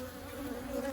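Honeybees at an open hive during an inspection of new comb, a continuous close buzzing drone with a steady pitch, fairly faint and unbroken, with no talk.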